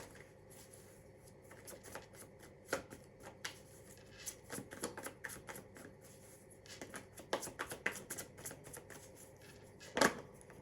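Tarot cards are shuffled by hand at close range, giving quiet irregular bursts of riffling and snapping, with a sharper flurry near the end.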